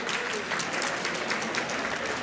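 Audience applause at a 2018 Hall of Distinction induction ceremony, a steady, dense burst of clapping from a large crowd filling the whole stretch without letup.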